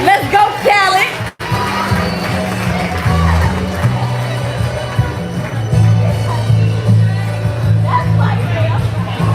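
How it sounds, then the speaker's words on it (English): A live crowd at a Chicago spoken-word poetry show cheers, whoops and shouts loudly for a poet about to perform, a dense sustained roar of voices with an emcee's voice over it. "Y'all clap it up for Khaled"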